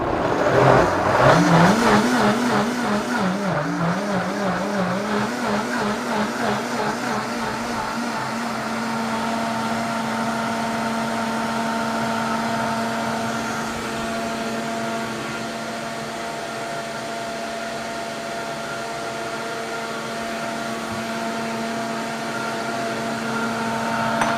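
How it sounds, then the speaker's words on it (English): A blender whirs steadily while blending Moroccan lentil stew until creamy, starting with a brief surge in pitch and then settling into a loud, even, airy motor drone that lasts throughout. "I'm going to blend it until it's nice and creamy"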